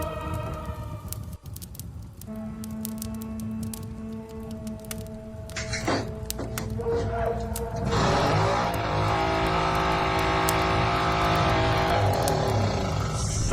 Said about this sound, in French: J'espère qu'elle va démarrer sans problème